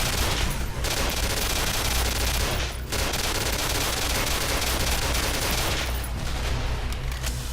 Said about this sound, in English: You can see him firing off the particle beam there.